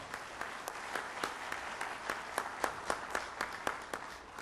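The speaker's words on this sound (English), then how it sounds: "Could we give them a round of applause?" Audience applause at a peace convention opening plenary, a fairly faint steady wash of clapping with distinct regular claps punctuating it.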